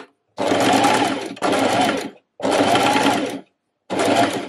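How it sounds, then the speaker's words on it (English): A sewing machine stitches along a drawn line on a reversible button-front dress, running in four steady bursts of rapid mechanical whirring separated by short silent pauses, loud and close. "line up this line that we've drawn with the needle and just sew along here"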